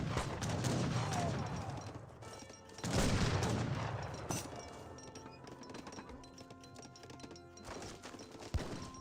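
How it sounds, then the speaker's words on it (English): Falconet cannon blasts and musket gunfire crackle through a battle in Age of Empires 3. Dense, overlapping volleys with sharp individual shots and heavier booms repeat steadily at moderate volume. "The Falconet's ripping apart"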